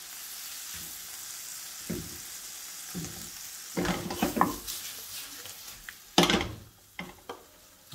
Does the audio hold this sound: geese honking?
no